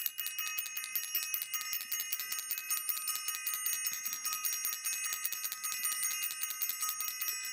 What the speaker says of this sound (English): I want to ring the bell for self-invested